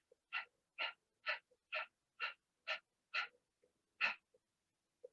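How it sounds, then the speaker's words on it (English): Rapid open-mouthed panting, about eight evenly spaced breathy huffs, close and fairly quiet with short pauses between, done as a yoga breathing exercise with the tongue out. "sticking our tongue out and doing a panting motion"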